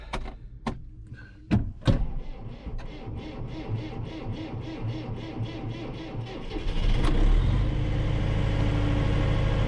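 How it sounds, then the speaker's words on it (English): A tractor engine cranks and starts, settling into a steady mid-pitched running rumble that grows louder and heavier as the machine begins moving, with a few sharp clunks early on, close by in a barn setting. "First things first, move tractor."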